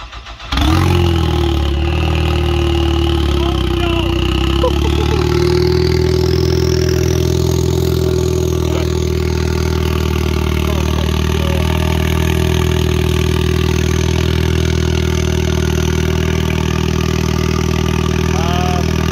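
A turbocharged car engine with a hood-exiting exhaust dump idles loudly and close by, holding a steady, rumbling drone for the whole stretch after a brief start at the beginning.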